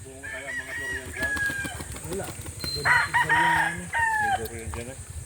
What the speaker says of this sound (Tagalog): may inahin din pala dito